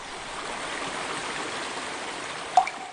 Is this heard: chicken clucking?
no